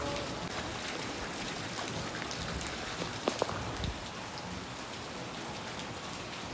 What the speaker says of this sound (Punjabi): ਬਹੁਤ ਜ਼ਿਆਦਾ ਮੀਂਹ ਅੱਜ ਦਿਨ ਹੈਗਾ